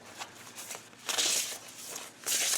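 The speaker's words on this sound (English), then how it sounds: "You can look at the box there while I shuffle the cards for a moment." A deck of cards is shuffled in a few quick riffling bursts, close and fairly quiet, with soft handling rustles in between.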